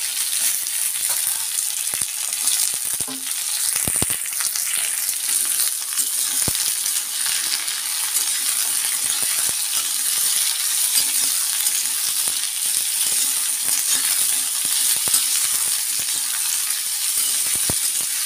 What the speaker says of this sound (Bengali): ঝিঙেগুলো দিয়ে দিচ্ছি। ঝিঙেগুলো দিয়ে কিন্তু নুন দেবো না। হ্যাঁ, নুন দিলে তো জল হয়ে যাবে। একটু নাড়াচাড়া করি।